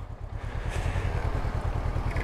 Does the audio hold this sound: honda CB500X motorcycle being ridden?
yes